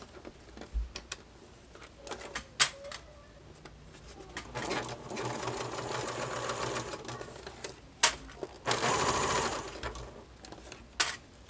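A sewing machine stitching a bag runs in short bursts of rapid mechanical clatter, separated by quiet pauses and a longer steady run of stitching.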